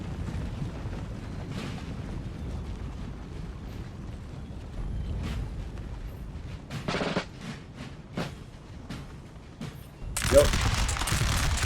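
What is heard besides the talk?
musket volley fire in video game Napoleon Total War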